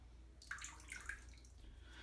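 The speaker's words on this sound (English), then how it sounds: "you will proceed to fill up the bathtub with warm but not hot water" Warm water runs into a bathtub where a trombone is being soaked for cleaning. A faint splashing trickle and a few drips start partway in and stay quiet and close, with no voices.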